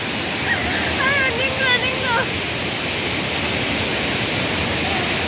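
A rushing village stream in the hills pours in a steady, loud, broadband roar that lasts throughout, with a voice talking briefly over it near the start.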